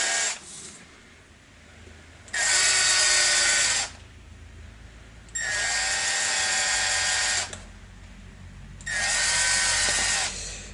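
A power drill bores holes into a brand new Mastodon in three separate bursts, each a loud whining spin lasting a second or two, separated by quiet pauses.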